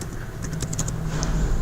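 A short burst of light, quick keystrokes on a computer keyboard while C code is typed, soft clicks scattered over a low background hum.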